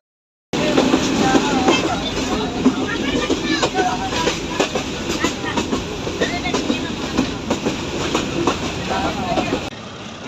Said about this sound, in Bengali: মহেন্দ্রনগর থেকে ট্রেন ছেড়ে দিল